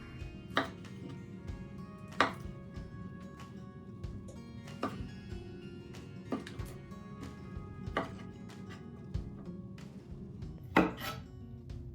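A knife chops broccoli into small florets on a cutting board, giving sharp, spaced knocks at an uneven, unhurried pace, close and fairly quiet with no talking.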